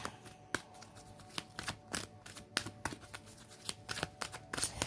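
A deck of fairy oracle cards being shuffled by hand, a steady run of soft riffling slaps and papery flutters close to the mic with no talking.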